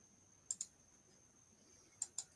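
A computer mouse clicks in quick pairs, twice with a pause between, crisp and close against a quiet room with a faint steady electronic whine.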